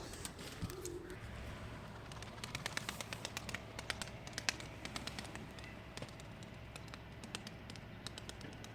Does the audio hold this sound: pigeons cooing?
yes